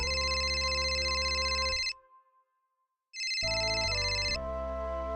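A telephone ringtone plays in loud electronic bursts, pausing about a second before ringing again with a shifting melody, heard alone without talk.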